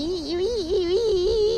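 A voice imitates the front-end squeak of a Ford Crown Victoria going over bumps, a single drawn-out wavering whine that rises and falls, close and fairly loud.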